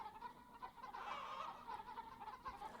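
Chickens in the Egg, Inc. farming game cluck softly in a steady chatter of repeated clucks, faint and continuous with no talk.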